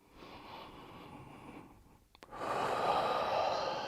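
Breathing during a home quarantine workout, a steady soft exhale through the first half, a brief pause, then a louder, fuller rush of breath through the second half, close and alone with no talk.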